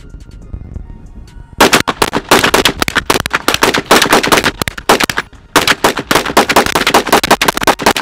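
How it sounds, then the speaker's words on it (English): Rapid gunfire from a magazine dump aimed at military body armor, loud sustained bursts of shots with a short pause midway, following a quieter moment. "it's about that time for a mag dump."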